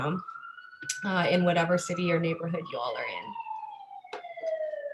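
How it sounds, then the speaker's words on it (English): Emergency vehicle sirens wail outside in a city neighborhood, a long descending tone running beneath a person talking indoors throughout. "apologies for the sirens in the back"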